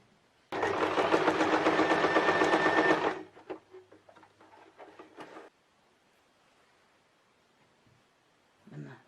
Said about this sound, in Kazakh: Енді мынау қызыл 5-5 шаршыны мына жолаққа қосып тігеміз.